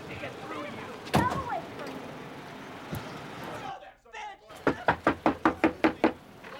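Police knock hard on a home's door in a domestic violence call, a fast run of about eight loud, evenly spaced raps after earlier muffled thumps and background voices.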